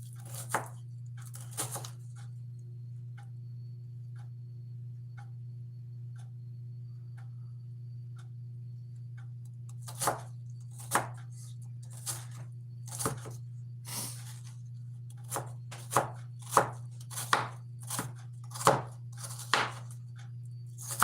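Onions being chopped with a knife on a cutting board, a few sparse knocks at first, then a run of sharp, close chops over a steady low electrical hum.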